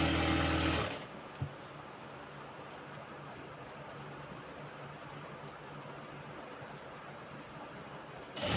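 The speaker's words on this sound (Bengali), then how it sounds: "আমি আস্তে আস্তে সিলাই করতেছি" A sewing machine slowly stitches printed fabric, a faint, steady low hum after a brief louder burst at the start, with a single small click early on and no speech.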